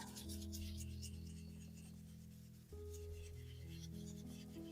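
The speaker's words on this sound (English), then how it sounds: "Just gonna rub that over the top and let's see if it resists." Mixed media rubbed over a craft surface, a soft continuous rubbing rasp at low level with a steady background hum.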